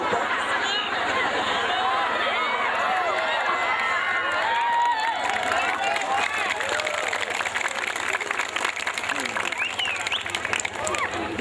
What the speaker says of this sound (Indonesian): dikasih tepuk tangan